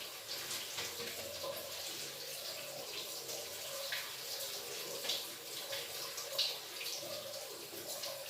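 Water runs steadily from a faucet into a sink during a handwashing demonstration, a faint, continuous splashing stream with small clinks.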